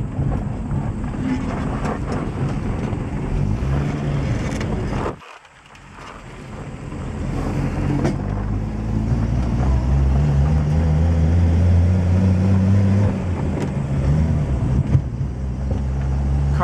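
Engine of a Chevrolet Styleliner Deluxe with a Continental kit revs, drops off abruptly in a brief gap as the car shifts into second gear, then builds again in a steady loud rumble with wind noise.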